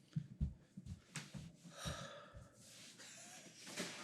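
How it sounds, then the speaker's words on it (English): A person blows their nose in several forceful, snorting bursts with breathy, wet rushes of air, close to the microphone. "Let me blow my nose real quick."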